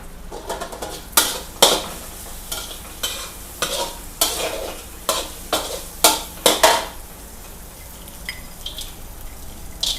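Pad Thai stir-fried with dried shrimp in a pan or wok, loud rhythmic metal spatula scrapes and clanks repeating every half second or so over a constant frying sizzle.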